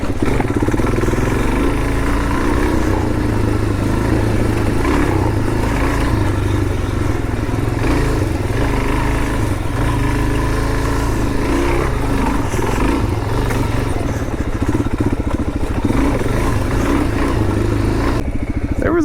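A Suzuki DRZ400 dual sport motorcycle rides along an off-road trail, the single-cylinder engine chugging loud and close with steady throttle and rattling clatter from the rough ground, over wind noise and with no talking.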